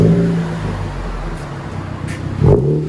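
A burnt orange 2014 Honda Civic Si with its muffler deleted revs up, a loud, close engine drone with a sharper rise near the end of the rev.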